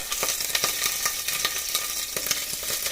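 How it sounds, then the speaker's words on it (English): Sun-dried tomatoes sizzle and crackle in hot olive oil in a pan, a close, steady frying hiss broken by light stirring scrapes and pops. "I already have some olive oil in the pan, and that shit's sizzling"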